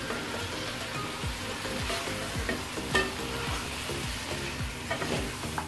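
Fried mutton being stirred with bay leaves, cinnamon sticks and spices in a pan, a bright sizzle under a run of repeated scraping and clinking strokes at an uneven rhythm, with no voices.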